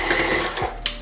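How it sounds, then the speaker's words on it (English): An electric stand mixer labours through stiff sugar cookie dough, giving a close, continuous mechanical whir with small rhythmic knocks, alone without talk. "It's making my mixer work a little hard. It's definitely a stiffer dough"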